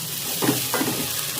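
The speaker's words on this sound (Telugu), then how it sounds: "ఇప్పుడు బెండకాయలు వేసుకొని ఫ్రై చేసుకుందాం." Okra sizzles as it fries in a pan, a steady hiss with two short stirring bursts near the middle, close and moderately loud, with no voices.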